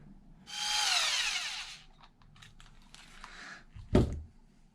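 A power tool whirs for about a second while loosening bolts on an Arrma Kraton EXB RC car, followed by small clicks and handling taps and a sharp knock near the end.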